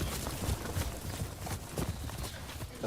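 Horse hooves clip-clop in a steady, fairly quick rhythm against a continuous rumbling background, at the Château de Chambord.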